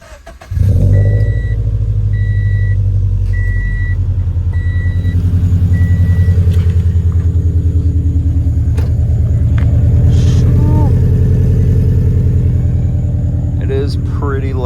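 Subaru BRZ fitted with UEL headers and a full catback exhaust cranks and fires up, settling into a loud, steady, deep idle rumble that carries on close by with a brief blip partway through; faint voices are heard alongside.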